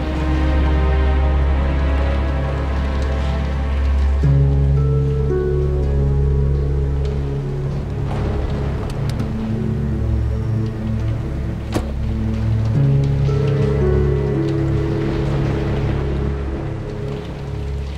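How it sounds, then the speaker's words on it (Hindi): Heavy rain pours in a steady, loud, continuous wash, with a low rumbling hum underneath and no talking. "बारिश बहुत तेज है"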